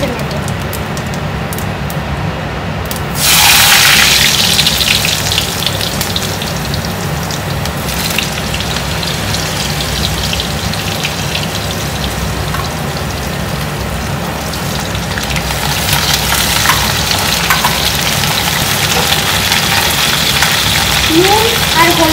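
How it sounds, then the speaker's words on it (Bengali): Potatoes and pointed gourd go into hot oil tempered with cumin: a sudden loud burst of sizzling, then a steady, rain-like frying hiss that continues close by for a long stretch, with no voices. "এবার আলু আর পটলগুলোকে আমি ভেজে নেব।"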